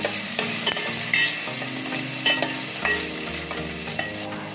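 A tomato frying in a pan while greens and sambar are cooked, giving steady close sizzling with a few stirring clinks and scrapes throughout, no talking.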